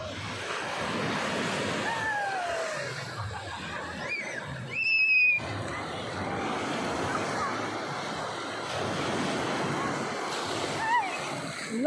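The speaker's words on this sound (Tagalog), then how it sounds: "Lakas ng alon." Strong ocean waves surging steadily at a beach during a company outing, a continuous broadband rush with wind buffeting the microphone and brief voices in the background.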